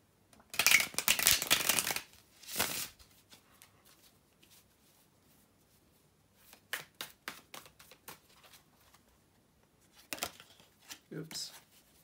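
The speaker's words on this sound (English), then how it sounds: "bear with me a second guys to shuffle the tarot cards" Tarot cards are shuffled in crisp riffling bursts, one loud flurry near the start and quieter shuffles later, with pauses between.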